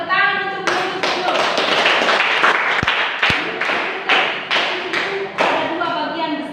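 Schoolchildren in a classroom clap their hands together in a rhythmic, patterned burst of sharp, evenly spaced claps, with children's voices chanting and calling along.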